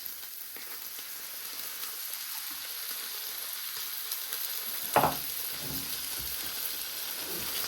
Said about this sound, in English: Give that a little bit of a stir.